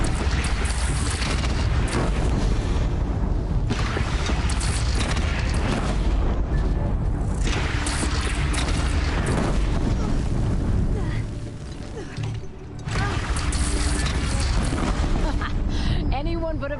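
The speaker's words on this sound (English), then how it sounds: "They only have one cannon!" Cannon fire booms and explosions from the Horizon video game roll out in heavy, repeated blasts, loud and dense throughout, with a brief lull near the end, while voices shout over the battle.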